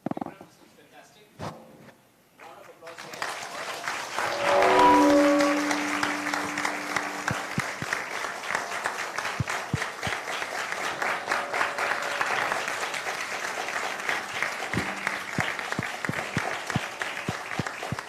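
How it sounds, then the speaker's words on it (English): A storytelling audience at a folk deities of India event breaks into a sustained, dense round of applause that swells quickly and holds steady, with a brief voice or cheer near the start. "Round of applause here."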